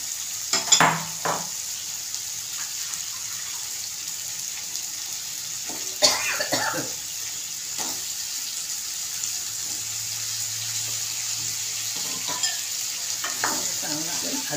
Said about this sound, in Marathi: चांगलं मस्त तेलामध्ये परतून घ्यायचं आहे